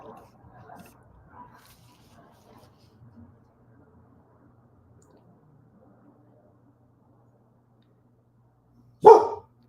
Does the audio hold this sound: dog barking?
yes